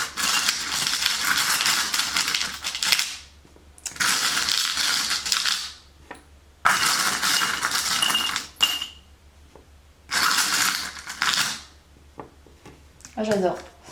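Divination charms shaken by hand and dropped onto a surface, making four loud bursts of rattling, clattering metal separated by short pauses, then a lighter jingle at the end.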